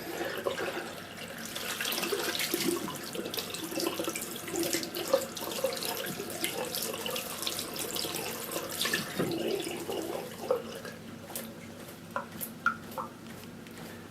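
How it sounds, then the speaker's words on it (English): A Dyson V6 or V8 cordless vacuum filter held pointing downward under a running tap, steady close faucet water splashing and draining through it for the whole stretch, with a few sharper spatters near the end. "always rinse it that way down as well. Pointing downwards so the water drains out of the bottom."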